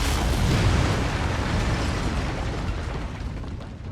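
Mech lasers firing in MechWarrior 5: Mercenaries make a dense, loud, rumbling burst that swells early and then slowly fades over a few seconds, with no voices.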